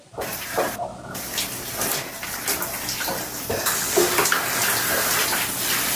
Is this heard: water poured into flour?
yes